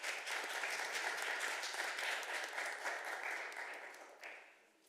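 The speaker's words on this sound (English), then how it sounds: "We can give a round of applause for the Parks Director." A room full of people at a city council meeting claps in a steady burst of applause that holds for several seconds and then fades away.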